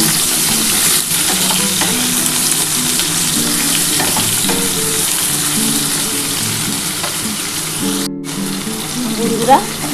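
Potatoes fry in a pan of oil for a spicy Bengali ridge gourd and poppy seed dish, a steady close sizzle with stirring scrapes and faint voices in the background.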